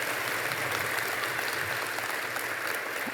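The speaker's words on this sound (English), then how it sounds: "Can we please get a round of applause for the many volunteers who made this happen?" Audience applause at a college commencement ceremony for the volunteers, a steady wash of many hands clapping at an even level, fairly distant and without voices.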